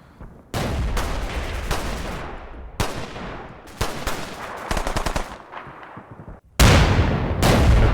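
Mortar rounds pound down in the Cold War tactics game Combat Mission Cold War, loud booming impacts arriving in sharp bursts separated by short decaying rumbles, with some rapid crackling fire mixed in.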